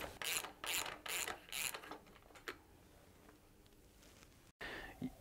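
Ratchet clicking in quick bursts as the top cap is unwound from a 2013–2015 34mm air-spring bicycle suspension fork, several rapid ratcheting runs up close, then quieter handling and a brief pause.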